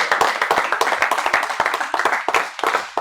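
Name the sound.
audience applause at awards ceremony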